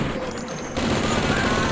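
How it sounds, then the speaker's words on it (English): Rapid Tommy gun machine-gun fire in the 1997 first-person shooter Blood, a dense continuous burst of game gunfire, loud and unbroken, growing heavier partway through. "Machine gun is actually one of my favorite guns. It's very clearly a Tommy gun."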